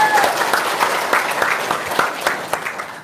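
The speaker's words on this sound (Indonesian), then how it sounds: "Tepuk tangan Bang" An audience applauds at a religious talk, dense steady clapping from a crowd filling the whole moment, loud and close, fading slightly at the end.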